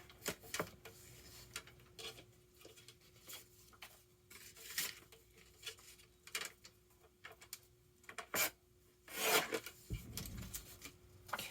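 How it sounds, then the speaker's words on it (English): A paper trimmer works through a sheet of paper, giving quiet, scattered scraping and rasping strokes that build to a louder slicing swipe near the end, close by in a quiet room. "I'll just cut this off with the trimmer"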